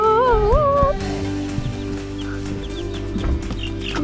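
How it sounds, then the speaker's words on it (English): A flock of backyard chickens clucking near a log cabin, soft scattered clucks and short calls over a steady low background hum, with a brief higher whistled or chirped tone at the start. "Are the chickens coming? They're coming."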